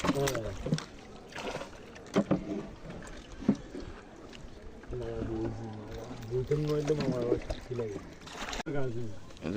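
Water sloshes and swishes steadily as a boat pushes through floodwater past a shop, with people talking over the sound.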